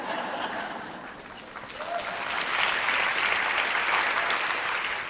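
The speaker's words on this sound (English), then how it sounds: "I wish that didn't get an applause." An audience applauds at a talk on men and masculinity, moderately loud clapping that swells midway and holds steady to the end.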